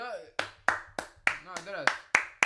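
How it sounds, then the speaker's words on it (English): About eight sharp hand claps in a steady rhythm, close and fairly loud, with a voice talking over them throughout. "round of applause, bro"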